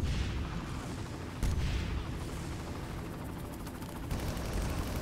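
Constant loud gunfire and explosions from the video game Far Cry, with dense rattling shots and heavy booms filling the whole stretch without pause.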